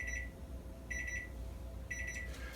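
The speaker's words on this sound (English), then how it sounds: "So the timer is going off again." A kitchen timer alarm sounds during pressure-cooker sourdough baking, three bursts of rapid high beeping separated by short pauses, moderately faint over a low background hum.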